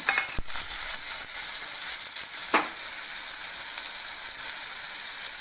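Chopped tomatoes fry with sautéed onions for an egg thokku, giving a continuous close sizzle with a couple of sharp stirring clinks, and no voices.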